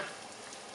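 Chorizo frying in oil in a pan over high heat, giving a close, steady, dense sizzle with no talking.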